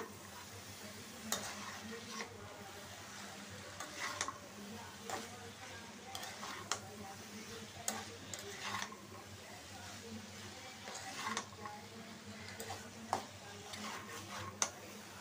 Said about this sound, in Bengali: মশলার সাথে আলুটা আমি সুন্দর করে মিশিয়ে নিব এখন।